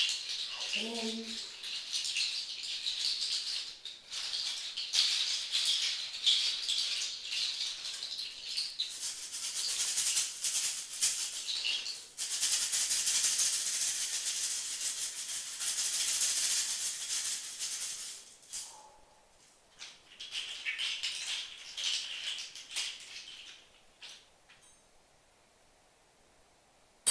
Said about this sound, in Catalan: Se sent el vent de les fulles que es mouen i se senten els ocells.